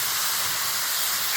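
Steady broad hiss of garlic paste hitting hot oil in a pan while cooking a chicken curry, loud and continuous with no breaks.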